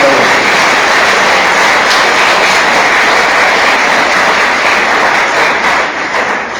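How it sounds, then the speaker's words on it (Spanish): Loud, dense applause from a large church gathering at a servers' meeting, a steady wash of clapping that fills the whole stretch with no talk over it. "Si va a aplaudir al Señor, debe aplaudir."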